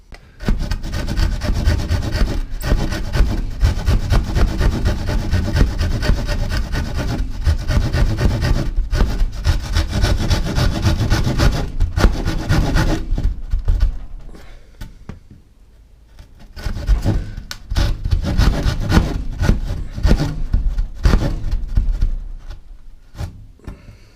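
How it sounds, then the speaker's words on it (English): Handsaw cutting through a soft timber support in a workshop shed: steady rasping back-and-forth strokes, close and loud, pausing briefly midway before the sawing resumes. "let me grab a handsaw, I'll cut the first one off"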